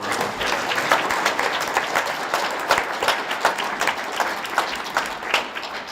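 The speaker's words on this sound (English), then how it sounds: "let's have one more round of applause for all these wonderful people" Audience at a school board of education business meeting gives a round of applause, steady, close clapping with some individual sharp claps standing out, no voices over it.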